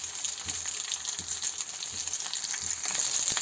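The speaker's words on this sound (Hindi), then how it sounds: "टमाटर को 2 टुकड़ों में फ्राई करूँगी कुछ इस तरीके से" Tomato halves frying in a pan for a radish and radish-leaf chutney give a steady, fairly quiet sizzle, with faint soft taps from the pan running through it.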